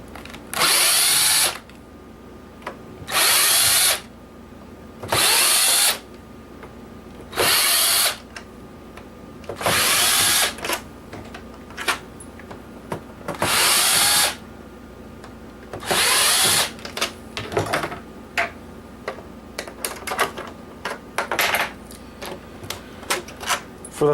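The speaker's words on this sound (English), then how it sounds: "So here on the top we have 7 screws. These are easily taken out." A power screwdriver backing screws out of a broken PS3 console, about seven loud whirring bursts of a second or so, separated by quieter handling clatter and clicks, close up.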